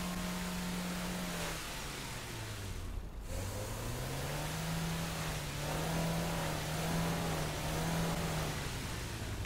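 A boat engine in GTA 5 drones at a steady, moderate level, dipping briefly in pitch before climbing back and wavering as the craft turns, heard alone without speech.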